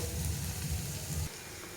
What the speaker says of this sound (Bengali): লাউয়ের চোকলা ভাজা হয়ে গেছে